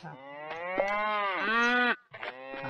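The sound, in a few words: cows mooing in the video game Survivalcraft 2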